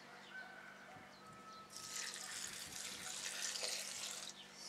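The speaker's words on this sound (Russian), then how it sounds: "Теплую водичку я добавляю." Warm water pours from a tap into a container, a brighter splashing rush that starts partway through over faint background hum and continues close and steady to the end.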